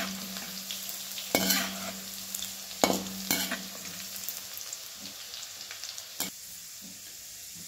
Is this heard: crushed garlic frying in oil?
yes